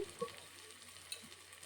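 Ground ginger-garlic paste with coriander and mint sautés in a pressure cooker for chicken dum biryani, a soft steady sizzle with a few faint stirring scrapes, quiet and close.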